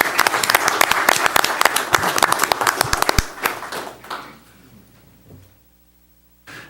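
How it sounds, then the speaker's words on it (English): Applause for new committee members at a board of directors meeting: a modest room of distinct, sharp claps for about three seconds, thinning out to silence, then a voice starts briefly at the end. "let's give our new members a round of applause"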